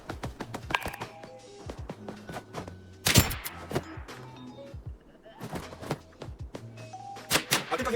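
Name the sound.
gunshots in Roblox BRM5 video game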